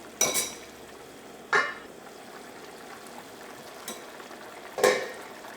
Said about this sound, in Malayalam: കറി നമുക്കൊന്ന് ഇളക്കിയിട്ട് കൊടുക്കാം